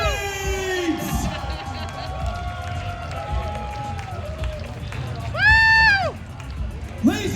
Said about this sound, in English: Let's hear it from the crowd for these amazing